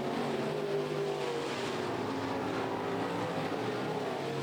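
Race cars at Buffalo River Race Park, including the 34 car, roar steadily as a pack, a dense continuous engine drone with no clear passes, heard at a distance.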